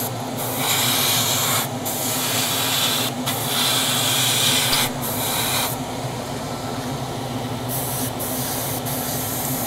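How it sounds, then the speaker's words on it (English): An airbrush fed by a compressor turned up to higher pressure sprays paint onto a model car body in steady hissing bursts of a second or more, separated by short pauses, close and fairly loud, with no talk. "I think I could do turning the pressure up a bit on the airbrush,"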